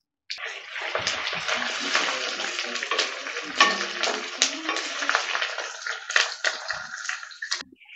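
Curry leaves and asafoetida hit hot oil in a village kitchen while making coriander pickle, bursting into a loud, crackling sizzle that starts abruptly, pops irregularly and fades toward the end.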